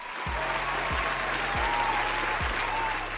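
Loud, dense applause from a crowd fills the whole stretch, with a few low thuds underneath.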